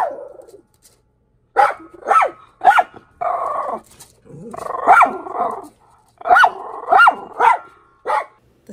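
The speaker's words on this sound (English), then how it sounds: "The dogs would bark." Several dogs bark loudly and close by in bursts, with growls, yips and sharp repeated barks overlapping across the stretch and a few brief pauses between them.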